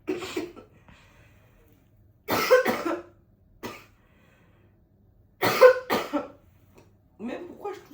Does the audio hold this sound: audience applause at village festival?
no